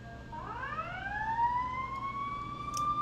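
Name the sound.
emergency vehicle sirens outside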